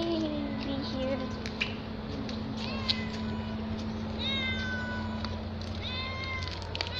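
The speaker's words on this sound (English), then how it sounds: "Here they are. There's the kittens." Several kittens meow repeatedly in high, thin cries over a steady low hum, close and fairly loud.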